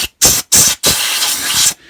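Three short hissing WD-40 aerosol sprays on a Hayter 41 mower's carburettor, then one long sustained spray, close and loud, with a brief pause between the first bursts.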